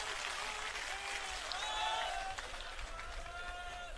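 Crowd applause at a farmers' protest rally, a broad steady wash of clapping with some whistles and cheers over it, loud and sustained throughout.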